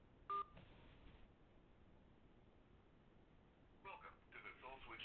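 A single sharp telephone keypad tone sounds when pound is pressed on an automated phone directory line, brief and loud over faint line hiss, and a recorded voice prompt follows.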